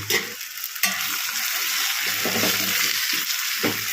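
Tomato masala with chilli powder and garam masala is stirred in a pan as it cooks down to a paste, giving a steady close sizzle with scraping spoon strokes and a sharp clatter near the start and again near the end.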